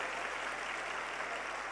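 Steady, dense applause from a large audience welcoming the Shankaracharya at a Shiv Mahapuran katha, a continuous even patter of clapping with no breaks, heard at a moderate distance.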